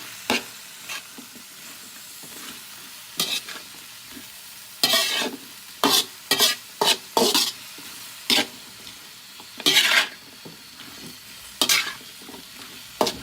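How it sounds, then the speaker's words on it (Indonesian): Water spinach being stir-fried with spice paste and salt in a hot pan: a steady sizzle broken by repeated scraping strokes of the spatula in an uneven rhythm, close and fairly loud with no voices. "sekarang kita oseng kangkungnya bersama dengan bumbu dan juga garamnya"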